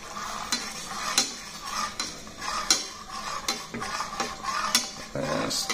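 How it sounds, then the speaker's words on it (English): Creamy basil sauce with lemon zest stirred in a pan, repeated clinks and scrapes of a spoon against metal in an irregular rhythm over a low bubbling sizzle, close and moderately loud. "And stir that pretty good."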